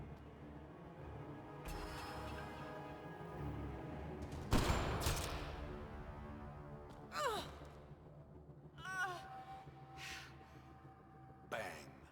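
A sniper rifle shot in Mass Effect Andromeda rings out as one sharp, loud crack midway, followed by a few fainter reports over a low sustained game score.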